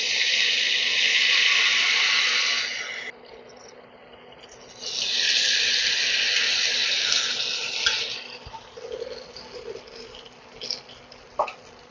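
Spoonfuls of batter drop into a pan of hot oil, giving two loud bursts of hissing sizzle separated by a quieter stretch, then a fainter crackle with a few small clicks near the end.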